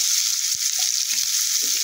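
Onions and dry red chillies sizzle steadily in a pan with oil and kalo jeere, making a continuous close hiss. A few soft knocks of stirring rise out of it, and nobody speaks.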